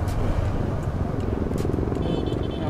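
A KTM Adventure 250 BS6 motorcycle being ridden, its engine droning steadily and loud with road and wind noise throughout, no talk.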